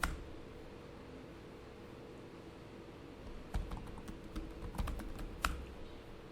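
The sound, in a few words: typing git push command on computer keyboard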